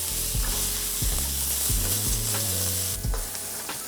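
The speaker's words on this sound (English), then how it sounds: "I'm gonna add my peanuts and my carrots and some green onions. Stir fry that for a minute or so." Peanuts, carrots and green onions stir-fried for kung pao calamari, sizzling loudly with repeated scraping stir strokes in an uneven rhythm, close and without voices.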